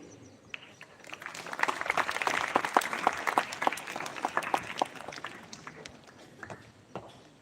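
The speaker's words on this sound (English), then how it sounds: "let's welcome with a big round of applause Mr. Sunil Singh" An audience applauds warmly at an Independence Day celebration to welcome a speaker, a steady round of clapping swelling and then tapering off, with no talk over it.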